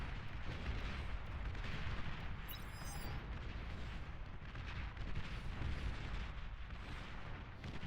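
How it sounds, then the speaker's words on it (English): Dense, rumbling artillery barrages from the real-time strategy game Beyond All Reason, with a continuous layer of booms and explosions kept low in the mix and no talking. "Now some artillery shell shockers in the mix on the Britain side"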